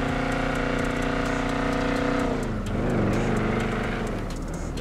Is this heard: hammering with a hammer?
no